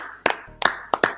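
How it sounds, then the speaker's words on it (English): A few distinct hand claps at a live talk show taping, four sharp separate claps spread across about a second rather than a full crowd. "Big round of applause."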